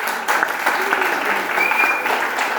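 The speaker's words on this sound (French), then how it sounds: "un tonnerre d'applaudissements" An audience at a poetry testimony event in Fréjus applauds for Jessica, a dense, steady wash of clapping lasting throughout, with a few voices mixed faintly underneath.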